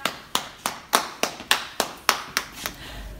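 A single pair of hands claps about ten times at a steady, unhurried pace, close by, each clap sharp and distinct in a quiet room.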